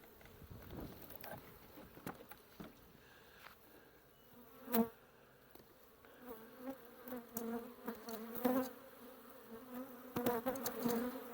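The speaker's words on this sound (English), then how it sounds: "this bottom box is absolutely full of bees" Faint, steady buzzing of many honey bees in a hive box close by, rising and falling softly with occasional louder passes.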